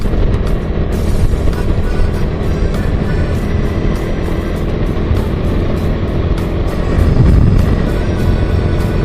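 Small cars pass along a district road, a steady engine drone and tyre rumble swelling as vehicles go by, with no talk.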